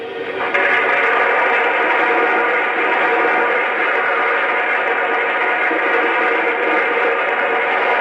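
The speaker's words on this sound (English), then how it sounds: "And here's the sound of coal being added to the tender." Coal loading into the tender of a Lionel NYC Pacemaker L-2a Mohawk toy steam locomotive, played as an onboard sound effect: a sudden start, then a dense, continuous rattling rush at steady loudness until the end.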